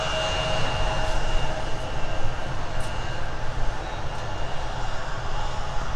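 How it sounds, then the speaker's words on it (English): A Jazz Aviation regional aircraft taxis at Minneapolis–Saint Paul airport, a steady broadband engine roar, loud and continuous, with a faint whine over it and no pauses. "Jazz Aviation taxiing close on Whiskey"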